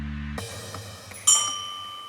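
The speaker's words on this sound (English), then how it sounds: "Who's ringing that bell?" A bell rings twice, each strike leaving a clear metallic tone that rings on and fades, the second louder and brighter than the first.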